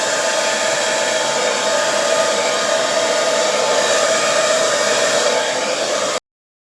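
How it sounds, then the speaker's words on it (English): A hairdryer blows acrylic paint across a canvas, a loud, steady whooshing motor hum that holds constant for several seconds and then cuts off abruptly. "just use my hairdryer to blow the paint across the canvas"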